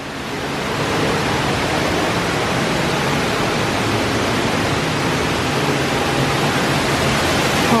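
Indoor waterfall in a cave passage at the Gaylord Opryland Resort in Nashville, a loud, steady broadband rush of falling water that swells in over the first second and then roars on unbroken, close by.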